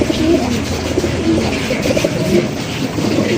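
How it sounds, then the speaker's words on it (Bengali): Red Shiraji pigeons coo in a loud, close, continuous murmur of overlapping throaty calls, with no speech over them. "রেড কালারের সিরাজি কবুতর।"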